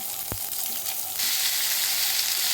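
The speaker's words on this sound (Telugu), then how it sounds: "పోపు వేగింది ఇప్పుడు కొంచెం కరివేపాకు వేసేసుకోవాలి" Curry leaves hit hot oil already holding mustard seeds, urad dal, cumin and chana dal for a tempering, bursting into a loud, steady sizzle with a sharp crackle at the start that intensifies midway.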